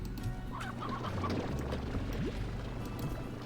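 Chicken clucking in the video game Slime Rancher, a few soft clucks and fowl calls scattered over a steady low game hum with background music, moderately close.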